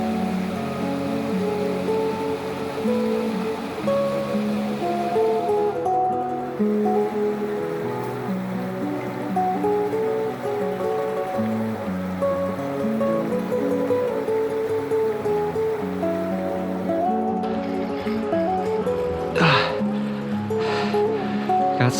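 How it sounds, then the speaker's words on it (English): The Mayo River in North Carolina flows with a continuous, fairly loud rush and babble of moving water, steady throughout with a few brief splashes toward the end. "Isn't this a beautiful river"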